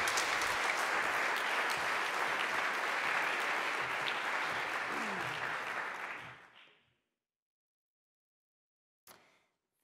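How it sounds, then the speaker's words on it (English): Audience at a university research conference in Padua clapping steadily for several seconds, a dense wash of hands that fades out quickly, followed by silence and a faint bump. "applause for her too"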